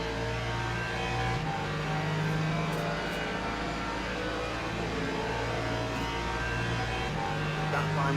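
A Mercedes race car engine drones steadily at high revs in the Le Mans Ultimate racing game at Fuji, loud and continuous, with gear-related pitch shifts along a straight.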